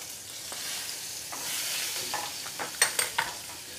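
Coriander stalks and curry leaves crackle in a hot tempering, a soft sizzle with a few light stirring scrapes and small clinks toward the end, close and fairly quiet.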